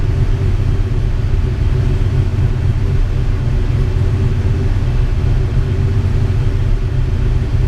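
Ford Mustang radiator cooling fans with a 180-degree thermostat, running as a steady, loud low whir and rumble that holds evenly for the whole stretch with no talk over it.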